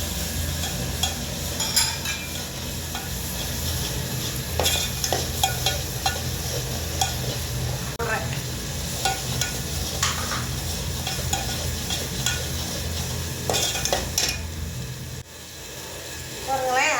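Spices such as chili powder, turmeric, coriander powder and chana masala powder being stirred into hot oil in a pan, with a steady sizzle and scraping spoon clinks throughout, close up.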